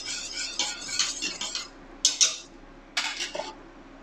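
A metal utensil stirs boiling water and butter in a saucepan, giving several short clinking and scraping bursts against the pan with pauses between, close and fairly quiet.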